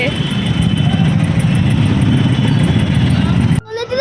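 An auto rickshaw engine drones steadily during a ride, a close, continuous rumble with road noise that runs unbroken until it cuts off abruptly near the end.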